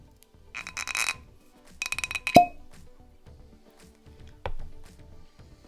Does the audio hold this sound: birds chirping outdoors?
no